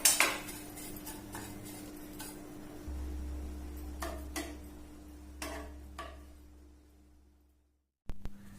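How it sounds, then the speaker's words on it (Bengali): Semai (vermicelli) is cooked in a home kitchen, with scattered clinks and scrapes of pots and utensils, a low steady hum underneath, and a brief silence before one final clatter. "ভাবলাম একটু সেমাই রান্না করে নিই।"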